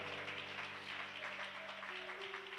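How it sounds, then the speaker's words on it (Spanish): A church congregation claps together, a soft, continuous patter of applause heard at a distance beneath sustained musical tones. "Si esas palmas son para el Rey de la Gloria, hay que dársela fuerte porque es para el Señor."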